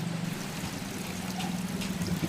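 Fast-moving flood water flows nearby, a low steady rushing and trickling that carries on evenly for a couple of seconds with no talk over it.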